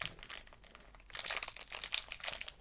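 A plastic Fox's Crunch Creams biscuit packet crinkles and crackles up close, growing louder and busier midway as the wrapper is worked open.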